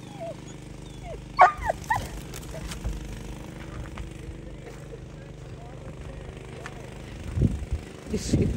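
Dogs bark outdoors in a snowy yard, with a couple of sharp barks and yips early on and more distant barking later. A low engine hum runs underneath, and there is some nearby rustling and talk.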